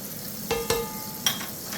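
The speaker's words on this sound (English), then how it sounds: "starting to render, which means there's a little bit of fat, as you can see, in the pancetta itself." Pancetta frying in a pan and rendering its fat, a gentle sizzle marked by a few short clinks and stirring knocks, close up with no talking.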